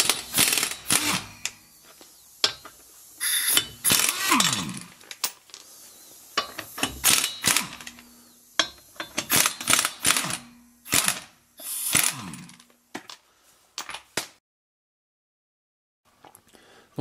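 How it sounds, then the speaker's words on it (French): Wrench loosening 19 mm lug nuts on the front wheels of a Chevrolet Aveo: close, clattering metallic ratcheting bursts with pauses between them, then silence at the end. "on va défaire les 4 roues, les 4 écrous,"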